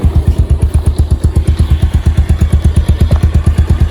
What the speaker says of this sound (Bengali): এটা হচ্ছে নর্মাল অবস্থাতে আপনার কি ইঞ্জিনের কাছে সাউন্ড আসবে